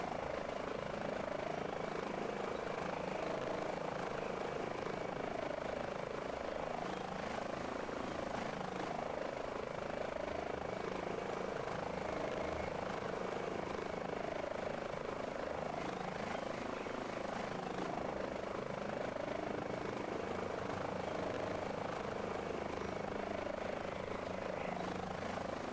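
Airbus H145 helicopter in Microsoft Flight Simulator 2024 with a steady turbine whine and a rhythmic rotor thump that stays loud and constant throughout, alone with no talk.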